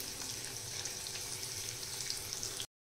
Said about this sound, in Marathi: इथे मी थोडी कोथिंबीर ॲड केलेली आहे, ती पण आपण ह्याच्यामध्ये छान फ्राय करून घ्यायची आहे